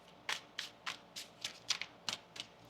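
Tarot cards shuffled by hand in a quiet room, about nine crisp riffling bursts spaced roughly evenly, close and clear, with no talking.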